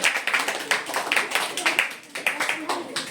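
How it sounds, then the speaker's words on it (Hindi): Classroom children clap for a classmate, a run of fairly regular, rhythmic claps from a small group, mixed with young voices. "बहुत बढ़िया, जोरदार ताली बच्चे की"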